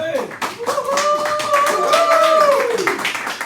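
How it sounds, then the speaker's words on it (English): Clapping from a small studio audience welcoming a talk show host, brisk individual claps under a prominent voice that carries a sustained sung or drawn-out tone through the middle. "let's have a round of applause for my good friend, Harvey Weisenberg"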